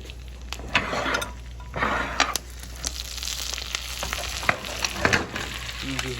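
Pan-seared steaks sizzle steadily in a hot pan while being basted, with repeated scraping and spoon clatters against the metal over a constant frying hiss.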